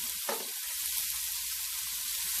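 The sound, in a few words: Steak-umm meat frying in grease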